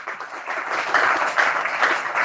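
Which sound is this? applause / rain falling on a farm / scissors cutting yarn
applause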